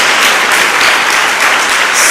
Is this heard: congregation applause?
yes